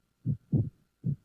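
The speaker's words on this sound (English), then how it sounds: "It's the sound of a heartbeat." Three heavy, low thumps of a heartbeat sound effect in a lub-dub pattern, close and isolated against silence, with a pause before the final beat.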